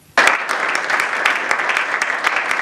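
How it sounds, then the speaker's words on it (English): An audience applauds the minister. The clapping starts suddenly, then stays loud and dense from a sizable crowd for a couple of seconds without letting up. "the minister's response to all these issues earned him applause from his"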